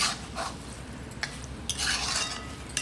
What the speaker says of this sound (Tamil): நல்லா மிக்ஸ் பண்ணிடுங்க